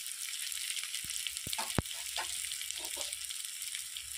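Turmeric powder goes into a pan of frying spices, bringing a steady close sizzle with a few brief taps and clinks near the start and soft stirring scrapes after, no voices.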